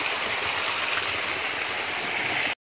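Strong floodwater rushes down a stream past a damaged water channel, a loud, steady, close roar with no voices, cutting off abruptly near the end.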